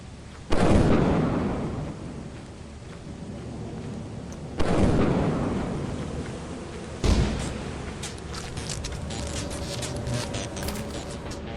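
Three heavy lightning-strike thunderclaps in the Vow game, each a sudden loud crack decaying into a long rumble, the last followed by crackling static-like bursts.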